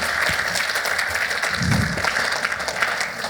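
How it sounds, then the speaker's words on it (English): Applause from an audience at a Toronto crossmedia conference, a dense steady patter of many hands filling the room without pause. "Round of applause for Brian."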